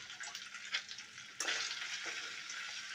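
Turmeric, curry leaves and ginger garlic paste fry in hot oil, a close, steady sizzling hiss that flares sharply louder partway through and stays strong, with no talking.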